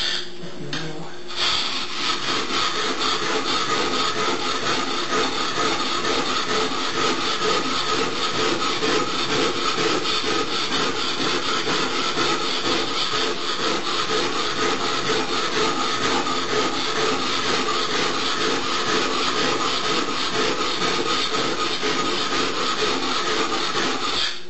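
A blade bevel is ground back and forth on a bench stone, making a steady, continuous rasping scrape with a rhythmic stroke pattern, close and loud throughout with no talking.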